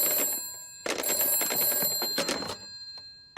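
A cartoon telephone rings with bright electronic bell bursts: a short ring, a pause, then a longer trill, close and clear with no talking.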